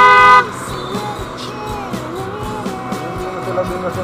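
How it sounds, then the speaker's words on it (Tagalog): Loud vehicle horn blasting in heavy traffic on a busy road in Manila, one sharp honk at the start, then the wash of passing engines and traffic noise. "Sila binusinahan ng malakas."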